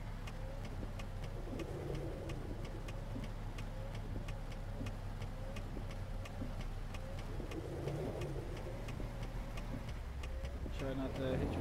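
An American truck engine in a trucking video game, a steady low hum with regular ticking clicks, while someone talks over it.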